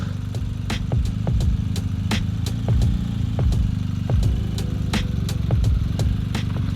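A motorcycle engine idling and held at light throttle on a hill start, a loud, close, steady low thrum with rhythmic pulsing and slight revs as the clutch is eased, alone without speech.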